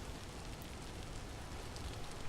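Rain falls steadily in the video game Path of Exile II, a soft, even hiss of drops heard alone at low volume.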